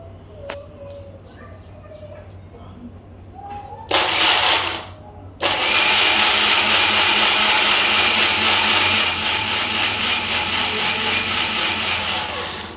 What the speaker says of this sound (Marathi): छान असं मिक्सरला फाईन दळून घ्यायचं